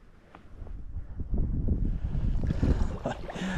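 A cold east wind gusts beside the River Fane, a close, rumbling buffet of air against the microphone that builds and holds steady with faint water and outdoor texture beneath.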